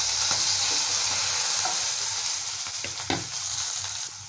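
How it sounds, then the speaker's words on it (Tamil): Onions, curry leaves and green chillies sauté in a pan with a steady broadband sizzle, broken by a few soft scraping stirs from a spoon, with no voices. "இது நல்லா வதக்கி கொடுக்கலாங்க"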